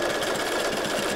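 A sewing machine stitching concentric circles on fabric, running steadily with a fast, even mechanical whir and rapid needle clatter, close and alone without talk.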